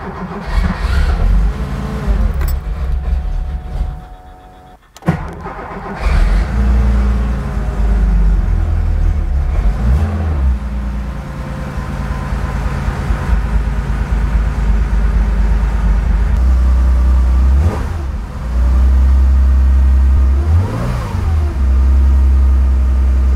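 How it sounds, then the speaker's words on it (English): A Porsche 911 2.8 RSR engine cold-starts with a short crank and catch, then idles loud and close with a deep steady rumble, rising in a few brief throttle blips before settling back. "all right, cold start again."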